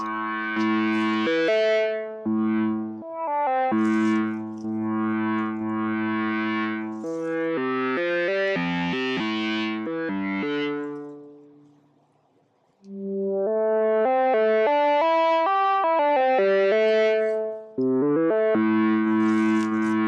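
A Moog Messenger analog mono synthesizer plays a bright, buzzy melodic line with a resonant filter sweeping through its tone, pausing briefly before resuming the sequence.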